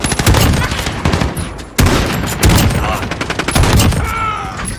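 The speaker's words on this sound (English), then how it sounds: "The second marksman rifle is the MK2 carbine" An MK2 Carbine marksman rifle fires in Call of Duty: Modern Warfare, a rapid string of loud, sharp reports with a short pause near the middle before the shooting resumes, up close and dominant.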